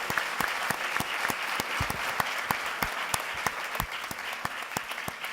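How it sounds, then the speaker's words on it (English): Audience applause for three guests at the close of a youth dialogue session at SIEW 2015, a steady wash of many hands clapping with distinct sharper claps standing out, sustained and moderately loud with no talk. "We'd like to round of applause for our three guests."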